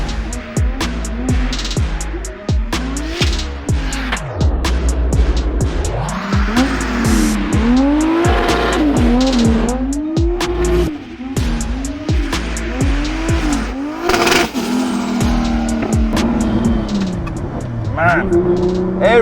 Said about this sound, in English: Man, every gear, just spinning wheels.